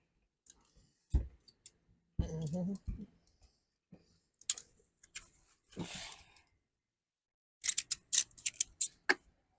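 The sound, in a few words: clicking while loosening a Valterra RV stabilizer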